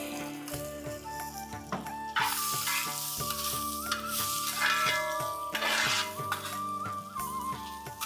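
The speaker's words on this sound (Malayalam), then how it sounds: "കുറച്ച് നെയ്യും കൂടെ ഒഴിക്കാം." Ghee sizzles and crackles steadily in a hot pan while being stirred, with a bright hissing layer over a louder, continuous background of music; no voices are heard.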